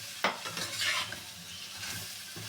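A pointed gourd mixture with ginger stirred in a pan, with a sharp clink of the utensil at the start, then soft scraping and a light sizzle, close and moderately quiet.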